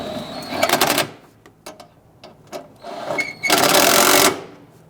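A power tool snugs down fuel pump assembly bolts on a 1999–2004 Jeep Grand Cherokee, giving two short, buzzing bursts close by with a gap of small clicks and clatter between them.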